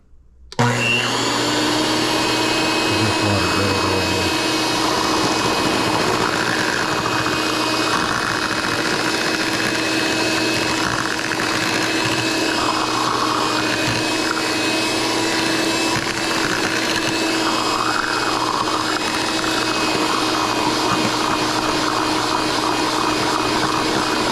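An electric mixer whirs loudly and steadily, beating a sweet potato casserole with a cup of milk added. After a brief start, the motor holds one continuous close drone with a slight waver and no talking.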